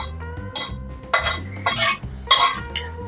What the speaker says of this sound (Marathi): सुक्क खोबरं भाजले तर सुगंध किती छान येतोय बघा